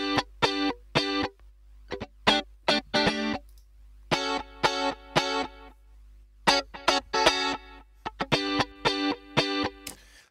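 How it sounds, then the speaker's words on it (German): Electric guitar played through a straight eighth-note delay in a pop instrumental remake of Doja Cat's "Say So", giving choppy, rhythmic bursts of notes with short gaps between phrases, clear and up front with no voices. "Anschließend habe ich die Gitarre noch durch ein Achtel-Delay geschickt."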